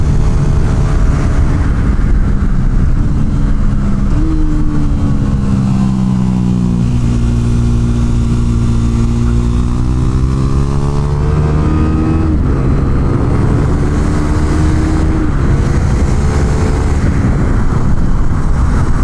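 A small track motorcycle runs on a race track, its engine droning loud and continuous with slowly rising and falling pitch as it accelerates and eases off through the corners, with no voices.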